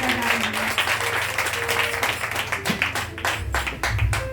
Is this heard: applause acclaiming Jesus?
yes